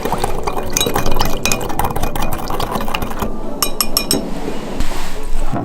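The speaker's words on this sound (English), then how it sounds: "add in lime juice and dissolve sugar" A spoon stirs lime juice with sugar in a glass to dissolve it, giving close, rapid clinks and scrapes against the glass over liquid swishing, with a few sharp taps near the end.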